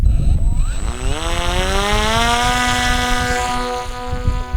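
An SF25 SuperFly delta wing RC plane's propeller whines loudly at takeoff, rising in pitch to a steady high buzz. Wind rumble and handling noise sit underneath the motor the whole time.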